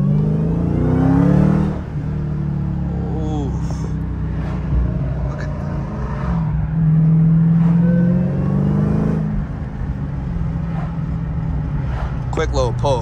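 A Dodge Hellcat Redeye makes a quick pull, its engine revving up in rising surges with shifts between, loud and close, while people talk over it.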